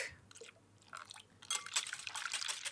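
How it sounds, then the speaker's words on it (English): Milk pours into fruit nut loaf batter in a bowl, a soft liquid trickle that builds into a brighter, splashing pour with faint clinks, quiet and close. "Then I'm putting in some milk."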